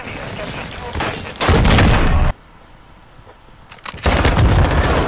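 Bursts of loud gunfire from a weapon in the Call of Duty: Modern Warfare II beta come in two heavy, rapid volleys separated by a quieter gap, with a few lighter shots between them.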